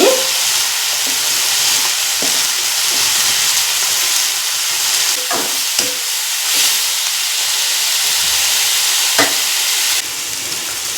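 Garlic frying in a pan: a steady, loud sizzle and hiss throughout, with faint clinks of stirring scattered through it and a slight drop in level near the end.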